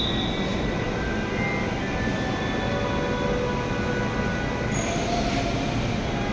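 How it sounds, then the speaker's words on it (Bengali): A crowded Dhaka metro train pulls away from a station heading north, its steady rumble joined by high wheel squeals; the noise stays loud and continuous throughout, with no voices. "ট্রেনটি ছেড়ে দিল।"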